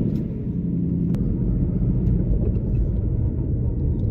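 A Subaru Forester drives to the store, heard from inside as a steady low road rumble and engine drone, constant and moderately loud throughout with no talking.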